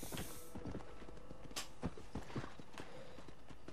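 Hooves clip-clop at a quick pace in Red Dead Redemption, a close, steady run of hoofbeats with a brief burst of hiss near the start and no speech over it.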